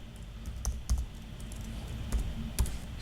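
Quick keystrokes on a computer keyboard tap along steadily and close by, with a few heavier key presses standing out above a low room hum.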